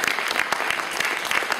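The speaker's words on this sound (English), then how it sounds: "can we have a round of applause for our sponsors," Brief burst of audience applause for sponsors at an evening society event, many hands clapping densely and steadily for under two seconds.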